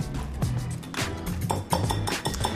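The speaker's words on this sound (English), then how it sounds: "I'm just gonna give that a quick stir." A spoon scrapes and clinks against a bowl while stirring stevia into yogurt, with quick, close, repeated light knocks of metal on the dish.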